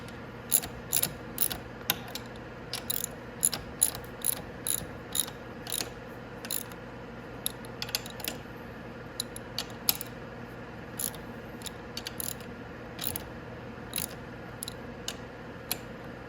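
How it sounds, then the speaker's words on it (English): A ratchet wrench tightens handlebar bolts on a Venom Grizzly 125cc ATV. It makes close, crisp bursts of clicking in a steady on-off rhythm over a quiet background, with no talking. "our handlebars are all nice and tightened up"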